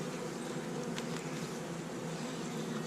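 Honey bees swarm around an opened winter hive whose honeycomb has been torn, making a dense, continuous buzzing drone close by that holds steady throughout with no voices.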